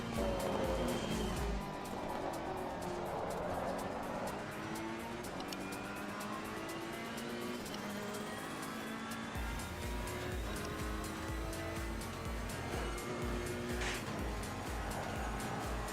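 Ferrari 488 EVO race car in Assetto Corsa Competizione at Kyalami, dive-bombing into a corner in traffic: a loud, steady engine roar with gear changes and tire squeal as the car slides loose on exit, no talking.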